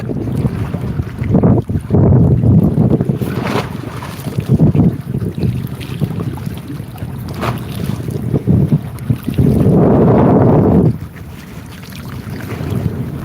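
A small fishing boat at sea carrying six people, its engine rumbling steadily under strong wind buffeting the microphone, with a louder gust-like surge near the end and no talk.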